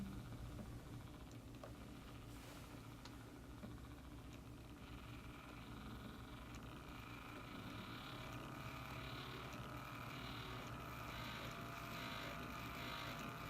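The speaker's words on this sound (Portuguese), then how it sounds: "Começaremos ligando os terminais de uma fonte de tensão ajustável ao motor com eixo excêntrico." A small motor with an eccentric shaft, powered from an adjustable voltage supply, drives a set of coupled pendulums, giving a steady, continuous low hum with faint mechanical whirring throughout, fairly quiet and unbroken.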